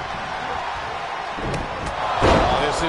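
A roaring virtual crowd in a Superman-themed wrestling video game, a steady wash of cheering noise that swells louder near the end, with a thud-like impact standing out briefly.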